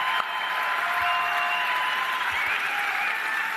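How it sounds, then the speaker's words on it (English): A rally crowd claps steadily throughout, a thin, moderately loud wash of applause from a smaller group, with no clear voices over it. "you can see it feels like it's a smaller clapping"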